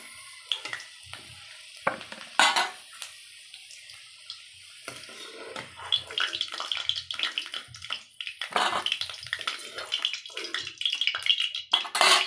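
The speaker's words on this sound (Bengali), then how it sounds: "দেখো, আলুটা ভাজা হয়ে গেছে, তুলে নেব এবার।" Fried potatoes being lifted out of hot oil in a pan, with scattered scraping and clinks followed by a busier, louder bubbling sizzle in the second half, close and without talk.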